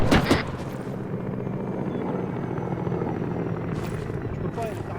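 Helicopter in a video game thrumming loudly overhead, a steady low rotor rumble that holds throughout, with a brief burst of other game noise at the start.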